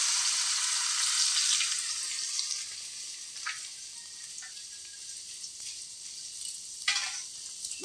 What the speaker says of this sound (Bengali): ডালগুলোকেও এবার উল্টে পাল্টে ভাজতে হবে।